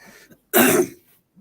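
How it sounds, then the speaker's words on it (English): A single sharp, raspy cough up close, brief and isolated amid near silence. "She heard me coughing, so she brought water for me."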